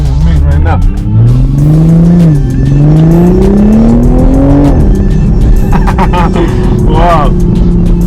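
A 2021 Toyota Supra A91 MK5 sports car pulls away in sport mode, engine revs climbing through rising gear pulls with a brief tire chirp, loud and close from inside, while someone talks.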